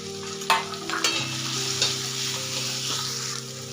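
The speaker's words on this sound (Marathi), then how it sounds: "छान परतून घ्यायचा कच्चेपणा जाईपर्यंत" Coarsely ground peanut and green chili masala fries in a pan for green moong dal, giving a continuous sizzle broken early on by a few scraping stirs, over a low steady hum.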